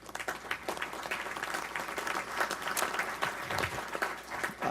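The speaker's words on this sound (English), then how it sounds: "Please do give them a round of applause." Steady applause from an audience fills a congressional hearing room after a call to recognize departing members, many hands clapping continuously at moderate loudness for several seconds with no talk over it.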